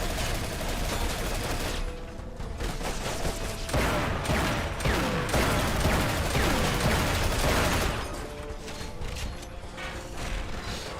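Bursts of rapid gunfire in The Chronicles of Riddick: Escape From Butcher Bay, dense and loud in clustered volleys with clanking impacts, filling most of the stretch with no one speaking.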